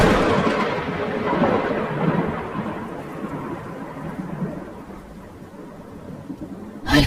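Steady light rain with low rolling thunder, a dark stormy ambience set under a horror story about a drive home in drizzle after a reception; the rumble swells and fades continuously, with a brief louder burst at the end.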